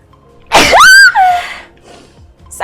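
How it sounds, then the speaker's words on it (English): A woman sneezes once, loud and close, with a sharp intake of breath before the burst and a quiet gasp afterward. "Oh, I need to sneeze."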